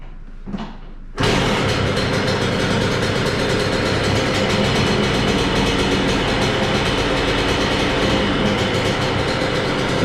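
Suzuki RM125 two-stroke dirt bike engine, freshly rejetted, fires up in a garage after a brief quiet start and then runs loud and steady close by, a dense continuous drone with no talk over it.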